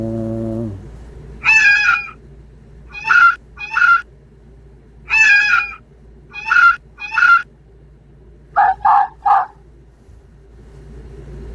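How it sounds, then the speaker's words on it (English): Goose honks played from a hunting call app come in short clustered bursts of two or three nasal calls, loud and close, separated by pauses over a low steady hum. "Geese, honks."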